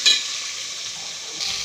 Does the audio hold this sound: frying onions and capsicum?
yes